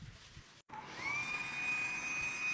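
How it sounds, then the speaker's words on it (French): Vacuum cleaner running on an apartment floor, starting after a brief gap into a steady, loud motor whine that rises in pitch and holds, with no voices. "J'aime bien aspirer le noir pour pouvoir voir la poussière"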